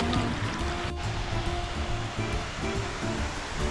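Steady rushing water from a distant waterfall beside rice paddies during transplanting, a continuous broadband roar with low rumbling, alone with no voices.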